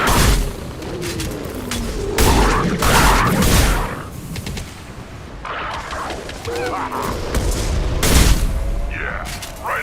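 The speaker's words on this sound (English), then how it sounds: "Firing an impact" An impact shot weapon fires in the Mass Effect 2 video game, producing loud booming blasts and rattling gunfire in repeated bursts amid chaotic combat noise, with a voice speaking briefly.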